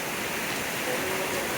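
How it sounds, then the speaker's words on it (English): Heavy rain pelts down at night in Kuala Lumpur, a dense, steady hiss of broadband noise that stays constant and close throughout, with no voices. "just pelting down raining like this"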